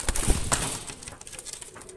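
Golden Pakistani high flyer pigeons coo close by in a short soft burst, with faint fluttering and shuffling around them.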